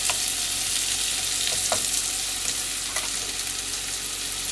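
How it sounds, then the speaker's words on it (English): Mushrooms frying in a pan for chicken primavera aboard a boat give a loud, dense, continuous sizzle, with a few spatula scrapes as they are stirred. "Next, we're going to add our mushrooms. I'm going to stir them a little bit to get them coated."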